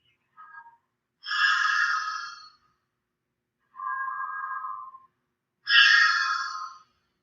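Open-mouthed yoga breathing, heavy hissing inhales and exhales with a throaty, Darth Vader-like rasp, about four long breaths alternating alone in a quiet room.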